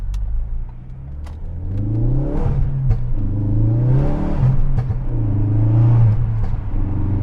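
A 2016 Ford Focus RS hot hatch with a turbocharged engine accelerates hard through several gear changes, the engine note climbing and dropping in steady pulls, loud and close, with no talking.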